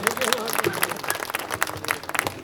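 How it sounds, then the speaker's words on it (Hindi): A poetry gathering's audience claps for a woman poet, a brief burst of scattered, fairly soft applause with some crowd noise. "एक बार जोरदार तालियां बजाइए महिला शक्ति के सम्मान"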